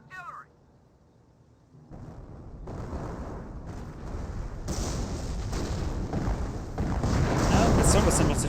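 Explosions and combat din build from a quiet start in a Company of Heroes match, with grenades thrown near a Flak 88 wreck. A dense, rising rumble of blasts and gunfire swells louder toward the end, with voices heard underneath.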